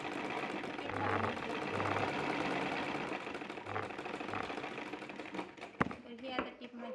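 A sewing machine runs steadily, stitching a hook strip onto a blouse with a fast mechanical patter, then stops near the end and gives way to handling clicks and a voice.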